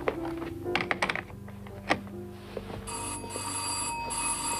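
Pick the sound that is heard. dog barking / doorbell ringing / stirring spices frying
doorbell ringing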